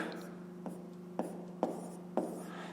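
Pen scratching on paper while a 5th-grade math exercise is written out, four short separate strokes against a low steady hum, near and faint, with no talk over them.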